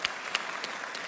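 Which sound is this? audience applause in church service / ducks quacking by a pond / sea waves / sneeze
audience applause in church service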